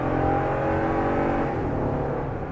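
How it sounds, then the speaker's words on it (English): A 2018 Toyota Tundra's V8 engine accelerating hard at highway speed, a loud, steady roar from inside the truck with no talking. "If you put your foot in it, it makes a lot of noise. A good noise, the good V8 noise."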